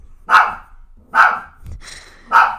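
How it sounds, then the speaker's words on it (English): A dog barks three times outside during a hair salon livestream, loud, sharp single barks spaced about a second apart, close and with no talk over them. "we have a dog barking"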